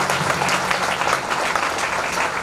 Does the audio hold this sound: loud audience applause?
yes